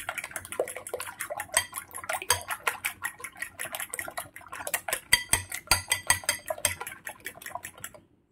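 Utensil rapidly beating a seasoned egg mixture with salt and pepper in a bowl, a steady run of quick, close clinks and scrapes lasting several seconds with no talking.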